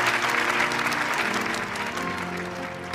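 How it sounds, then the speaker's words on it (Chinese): Dense, steady applause from a crowd of wedding guests congratulating a newly married couple, loud and sustained throughout with no pause. "现在我们再一次用热烈的掌声来祝贺今天的新人"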